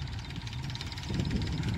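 An old small Massey tractor engine runs steadily close by, a continuous low rumble with slight roughness that grows a little louder toward the end, with no voices over it.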